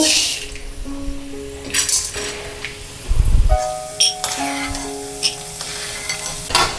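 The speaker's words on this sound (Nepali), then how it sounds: "यो तेलमा पहिला भटमासलाई तार्दै छु मैले" Soybeans frying in hot oil, a steady crackling sizzle with occasional stirring scrapes and clinks close by, no one speaking.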